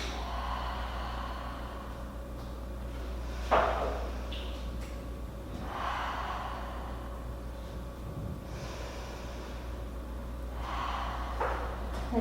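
Slow, audible breaths are drawn in and out during a yoga pose at home, several soft rushes spaced a few seconds apart over a quiet, humming room.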